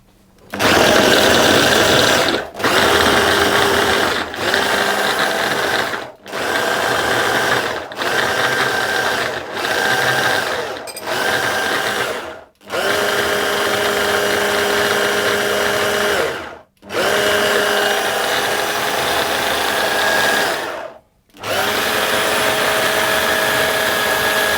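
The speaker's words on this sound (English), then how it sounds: "I'm going to process this, pulse it basically, repeatedly, until the mixture becomes like coarse grain or fine breadcrumbs" A food processor pulses a pastry mixture for rice pudding tarts in a home kitchen, running in about nine loud mechanical bursts of a few seconds each, separated by brief silent gaps, with no talking.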